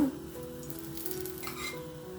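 Akki rotti, a rice flatbread, sizzles in ghee on a pan over medium flame, a steady close crackling fry with no talk over it.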